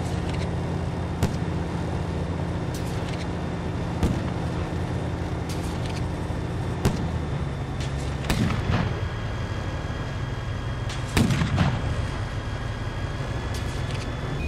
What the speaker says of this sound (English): I'm just waiting for the artillery to stop